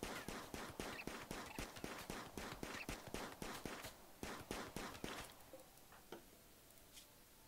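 Gunshots in RimWorld crack in rapid, evenly spaced bursts, loud and dense at first, then thinning to scattered single shots toward the end.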